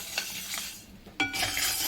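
Chana dal and spices dry-roasting in a pan without oil, with scraping stirs and light clinks of a spoon against the metal over a soft sizzle, close and steady, no talking.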